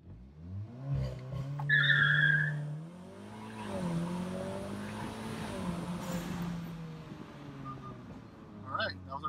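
Stage II tuned VW Golf R MK7 with DSG gearbox accelerating at full throttle. A close engine note climbs in pitch through several gear shifts, with a short high squeal early on and no talk.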